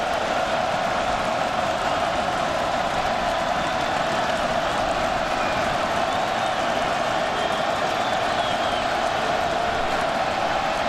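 A packed football stadium crowd roars at Georgia Tech during a Miami game, a dense, unbroken wall of cheering and noise heard from within the stands, loud and sustained.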